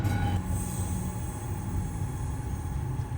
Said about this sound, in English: This is Tulyar, a member of the Deltic class of locomotive.